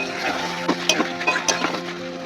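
A spoon scrapes and clinks steadily against a pan as thick chicken masala is stirred, with a soft sizzle of frying oil underneath and a few sharper metallic knocks.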